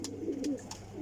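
A pigeon coos softly in a loft, a brief low burbling call with faint rustles around it.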